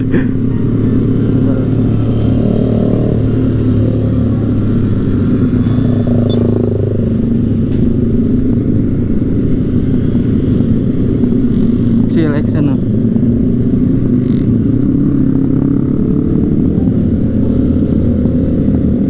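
A group of Yamaha R15 racing motorcycles rides past on a Sunday morning group ride, a steady loud engine drone and wind rumble heard from a moving bike, with people talking over it.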